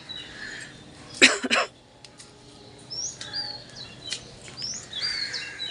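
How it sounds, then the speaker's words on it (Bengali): Birds chirp and tweet in short, high calls on an early morning, moderately near, with a brief cough-like burst of noise early on. "দেখবা পাখির ডাক কত সুন্দর"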